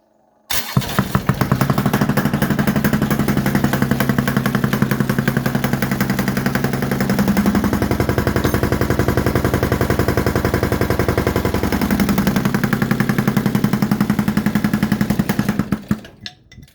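Massey Ferguson GC2310 compact tractor's diesel engine fires and runs steadily for about fifteen seconds, a loud rapid chugging with a shift in tone partway through before it cuts off, no talking.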